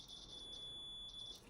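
A multimeter's steady, high continuity beep sounds continuously for about a second while testing a Smeg blender button, clean and unbroken, with a quiet background.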